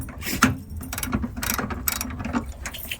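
A 13 mm ratchet works a battery bracket bolt loose on a Chevy truck, giving close, quick clicking bursts in an uneven rhythm with no one talking.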